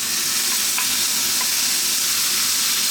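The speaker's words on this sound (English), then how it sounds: "Now I'm going to put in the fresh tomatoes first." Freshly chopped tomatoes tipped into a hot pan for an Italian garlic chicken stew, a loud continuous hiss of sizzling with a couple of faint clicks, steady throughout.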